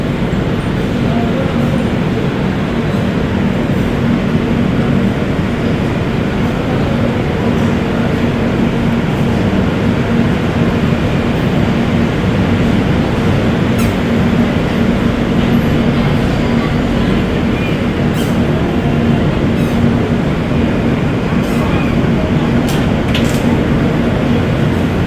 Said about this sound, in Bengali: আমাদের ট্রেনের লাস্ট হল্ট আসানসোল জাংশন থেকে ছাড়লো ট্রেন